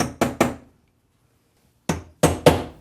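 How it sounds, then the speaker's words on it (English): Sharp hammer blows strike a metal number punch into a wooden kitchen cabinet door behind the hinges: three quick hits, a pause of over a second, then three more, close and crisp. "I like to use a number punch that'll number behind the hinges."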